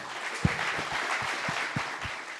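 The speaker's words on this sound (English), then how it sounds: "Can we give a round of applause to the Lockheed Martin people?" Scattered, fairly soft clapping from a small conference audience, a handful of distinct claps over a diffuse patter of applause.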